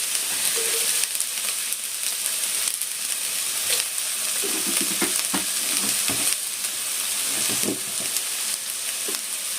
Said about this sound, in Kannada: ಇವಾಗ ಇದನ್ನು ಚೆನ್ನಾಗಿ ಫ್ರೈ ಮಾಡ್ಕೋಬೇಕು